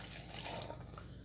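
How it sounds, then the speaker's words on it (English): Water poured into a blender for shrimp soup, a brief soft splashing pour that fades out within about a second, faint and close, with no talk. "Now we're also putting some of the water in here to the blender"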